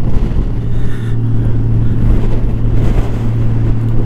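A Honda Goldwing motorcycle's steady engine drone with a low hum while riding, mixed with rushing wind buffeting the microphone, loud and continuous.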